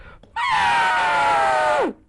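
A single loud, drawn-out vocal trumpeting cry, a person imitating an elephant, rising sharply then falling away after about a second and a half.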